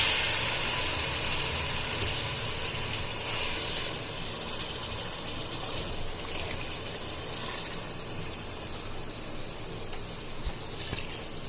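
Water, about four to five cups, poured into a cooking pot of black chickpea pulao gravy, a steady rushing gush running continuously at close range with a low background hum.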